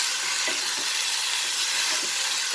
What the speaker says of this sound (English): So now this is the time I will add the potatoes